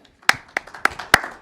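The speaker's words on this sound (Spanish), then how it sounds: "Podemos dar un aplauso por ese concepto" Five sharp, evenly spaced claps ring out in quiet during a church sermon, a few hands beating a slow rhythm rather than full applause.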